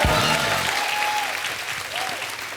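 A studio audience at a comedy talk show reunion for the 1983 Cricket World Cup team claps loudly and steadily, a dense wash of applause with a faint tonal sound behind it.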